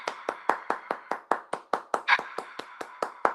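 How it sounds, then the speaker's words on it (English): Rhythmic applause sounds out as a steady train of about sixteen evenly spaced claps, sharp and close, with no voices. "Thank you for the applause."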